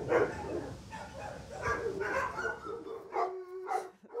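XL Bully dogs at a shelter bark and whine in short, repeated bursts, fairly close and moderately loud, with a few higher yips toward the end.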